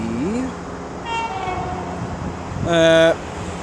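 An Avanti West Coast train approaches Milton Keynes Central station on the West Coast Main Line. A brief two-tone horn sounds early, and a loud, sustained horn blast follows near the end over steady station rumble.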